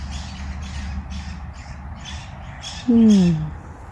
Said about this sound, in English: Parakeets or something, having a squawk.